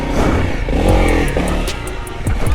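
A Honda CRF300L motorcycle engine revs loudly and up close as the ride gets under way, rising and falling with some mechanical clatter and no talk over it.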